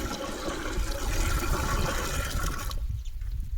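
Water pours steadily from a pot into a large cooking vessel on a big stove for potato wafers, a close continuous gushing splash for about three seconds that stops abruptly.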